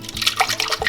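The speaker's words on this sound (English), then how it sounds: "I am going to add some of this water" Water splashes and gurgles as it is poured into mason jars of beet juice, a brief, close liquid pour.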